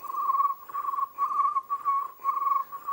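A high, steady whistled tone broken into short pulsing phrases, mimicking a cricket's chirp, close and clear with no talking.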